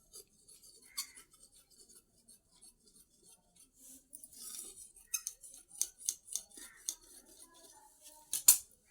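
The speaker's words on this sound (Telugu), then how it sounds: "ఈ విధంగా మార్క్ చేసుకొని కట్ చేసేసుకుందాం." Scissors cutting blouse fabric for a tailored uniform, a series of crisp snipping clicks that are sparse and faint at first, then come in a quicker, louder rhythm of close cuts with one sharp final snap.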